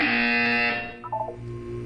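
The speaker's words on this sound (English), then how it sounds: "You will hear a buzzer. When you hear the buzzer, look up at the ceiling." A loud, flat electronic buzzer from the Portal 2 video game sounds for about a second, followed by a short tonal chime.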